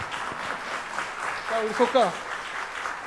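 A church congregation applauds steadily throughout, a dense even patter of clapping, while someone speaks briefly over it near the middle.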